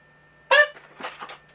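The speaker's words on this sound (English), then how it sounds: "Now this is a kazoo. It has a very, very strange sound." A kazoo buzzes in a loud, reedy blast, then gives two or three shorter nasal bursts, close to the microphone in a quiet room.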